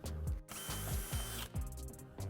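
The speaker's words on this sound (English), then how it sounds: "Last hole we're going to drill is going to be right here. Using our pilot bit," A power drill bores a pilot hole for a Roush rear valance on a 2018-2020 Mustang GT, its whirring motor close and loud and rising and dipping in short bursts over a couple of seconds.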